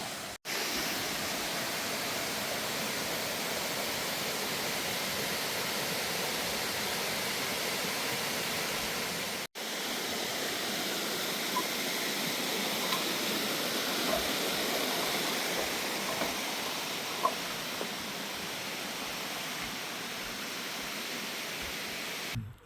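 Namtok Pa Wai waterfall in Thailand rushes in a steady, broadband roar that carries on unbroken, with faint scattered clicks and no voices.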